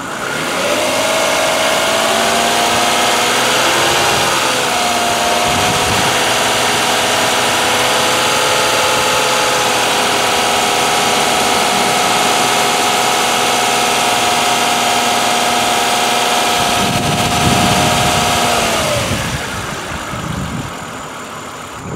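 A car engine is raised to about 2500 rpm and held steady for a load test during battery and charging checks, a loud, constant close-up drone that dips briefly and eases off near the end, no voices.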